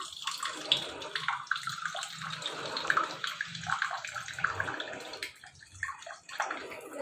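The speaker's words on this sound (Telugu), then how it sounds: "కలుపుకోవాలి హాట్ వాటర్ వేసుకొని" Hot water pours into jowar flour, splashing and gurgling in uneven bursts, pouring in and sloshing with short pauses between.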